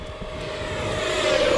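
Two E-flite F16 Thunderbirds electric ducted fan RC jets at full throttle, a loud steady whine with a high tone that climbs and swells as the jets pass close by, with no talking.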